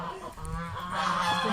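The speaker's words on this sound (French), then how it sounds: "Ça, c'est les oies. Vous voyez Les oies, les canards." Geese on a farm honk in a few nasal, clustered calls, fairly close, over light background noise.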